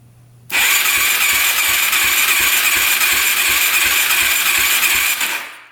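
A modded race quad engine cranks steadily with the throttle held open and a compression tester fitted, the engine showing zero compression; a loud, even whir with a quick rhythmic chug runs for about five seconds, then stops.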